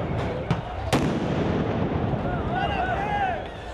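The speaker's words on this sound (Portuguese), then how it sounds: "O som das bombas se misturava ao dos rojões, resultando em muita confusão nas ruas de BH." Tear gas grenades and firecrackers go off in the streets of Belo Horizonte during a clash with Cruzeiro football supporters, giving a few sharp bangs over a dense, noisy crowd rumble, with whistles rising near the end.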